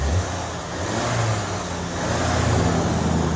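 A 2018 Audi A3 S-Line with a 2.0L turbo engine and straight-pipe exhaust revs in a steady, low rumble with small swells in engine pitch. It sounds fairly loud and close, with no talking.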